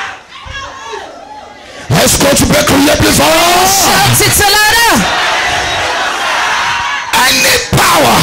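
A church congregation at a deliverance prayer service shouts loudly in prayer. A quieter voice opens, then a dense roar of many voices swells in at once, breaks off briefly, and resumes.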